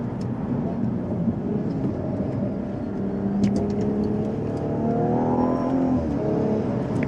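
A car's engine drones steadily from inside the cabin as it accelerates through an S-curve, the pitch rising in the last couple of seconds as it revs harder.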